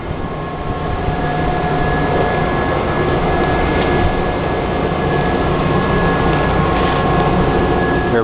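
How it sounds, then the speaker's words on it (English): A freshly assembled 1911 Harley-Davidson twin engine fires up and keeps running in a loud, steady drone with a constant hum. It stays continuous throughout, with no talking. "It's an amazing 1911 Harley Davidson twin engine being fired up after"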